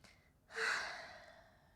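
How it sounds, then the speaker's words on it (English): A single deep breath during a beginner's vinyasa yoga flow, one audible exhale that swells and slowly fades, close and clear with no talking. "Take a deep breath."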